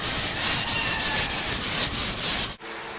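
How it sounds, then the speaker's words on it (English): Rhythmic hand sanding, sandpaper rubbing back and forth across wood in about eight quick, even strokes, loud and close, then stopping abruptly. "I'm going to sand this way just a little bit."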